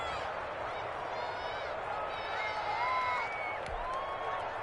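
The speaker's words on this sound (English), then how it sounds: "The crowd getting into it as we come up on a big 3rd down." Crowd noise in a PS4 football video game swells as a big third down approaches, a broad steady roar under a commentator's voice.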